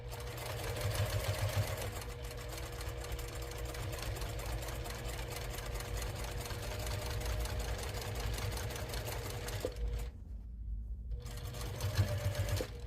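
Sewing machine top stitching fabric, a fast steady mechanical whirr running continuously, pausing briefly near the end before starting up again.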